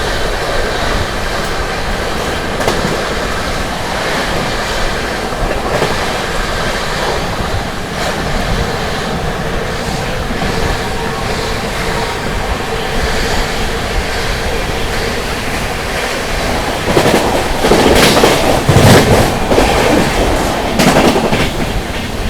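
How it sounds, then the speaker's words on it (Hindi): Amrit Bharat Express train running through Bharthana station in heavy rain, heard from on board as a loud, continuous rumble and wash of rain and wheel noise, with rattling clatter rising toward the end. "कुछ ही देर में जो है अपनी अमृत भारत एक्सप्रेस स्किप करने वाली है भरतना रेलवे स्टेशन को।"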